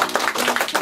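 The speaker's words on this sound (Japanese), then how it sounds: "皆さん大きな拍手でお願いします" A short burst of audience applause at a live comedy and talk show in Japan, dense and steady across the brief moment with no voices on top.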